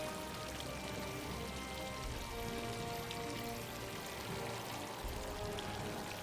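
Oil pours steadily into a bearer's vessel in Final Fantasy XVI, a continuous close liquid splashing and trickling that holds an even level throughout with no voices.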